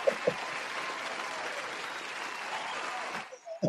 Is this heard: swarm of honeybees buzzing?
no